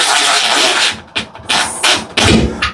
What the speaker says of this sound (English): I use an impact, but you can use any screwdriver. And just tighten it up.